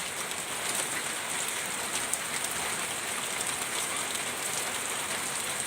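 Continuous rain pouring down, an even, close hiss of countless drops striking surfaces with no voices.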